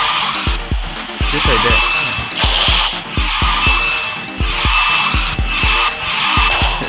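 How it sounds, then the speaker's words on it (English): Repeated tire skids screech in a Garena Speed Drifters race as a car snap drifts, sharp squeals over rhythmic engine thumps, loud and close, with a voice talking over them. "It's a snap drift."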